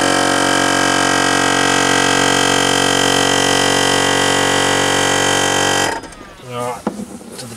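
A Sherpa Big Air compressor fitted to a Toyota Landcruiser 200 charges its air tank with a loud, steady droning hum for about six seconds, then cuts off abruptly, leaving someone talking.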